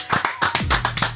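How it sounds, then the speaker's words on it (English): A few hands clap together in a quick, uneven burst lasting about a second, close and fairly loud in a podcast studio, with a brief voice sounding underneath. "Round of applause,"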